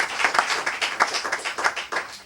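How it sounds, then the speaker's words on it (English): An audience applauds a South African poet at a poetry reading, with a dense, steady round of clapping and rhythmic bursts sustained throughout, fairly close and loud, with no voices over it. "let's give Dr. Mattera a big round of applause"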